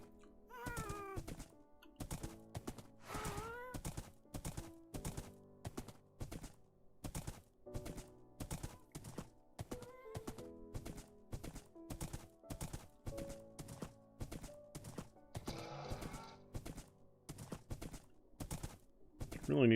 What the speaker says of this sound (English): This is my underwater horse.